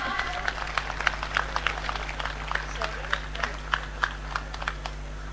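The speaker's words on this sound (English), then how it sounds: "Let's have a huge round of applause" A convocation hall audience claps for an MBA graduate, with scattered, uneven claps at a moderate distance over a steady low hum and faint room noise.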